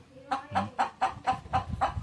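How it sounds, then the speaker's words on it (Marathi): Chickens clucking in quick repeated bursts, close by, with a few low rustles underneath. "कोंबड्या"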